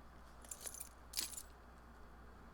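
A set of spare keys jangles in a TV drama scene, two quick metallic rattling bursts close by over a low background hum, with no talk.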